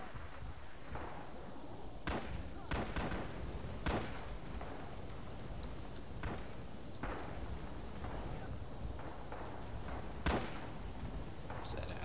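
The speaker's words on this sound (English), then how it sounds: "Artillery inbound at Delta 6." Incoming artillery fire in Red Orchestra 2, a series of sharp cracks and booming impacts scattered irregularly through a constant battlefield rumble, with voices talking underneath.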